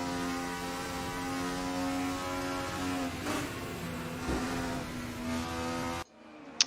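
A 1995 DTM race car in RaceRoom wails at high revs, a steady, loud, tonal engine note held for several seconds with brief shifts before cutting off abruptly near the end.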